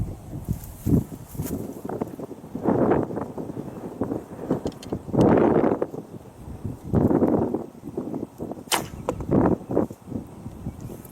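A HuntingDoor recurve bow shoots several arrows outdoors, each release a soft whoosh and thunk, spaced a few seconds apart against wind noise.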